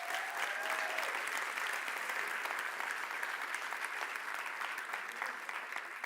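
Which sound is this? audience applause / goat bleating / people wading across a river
audience applause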